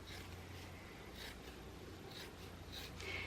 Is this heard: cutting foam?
yes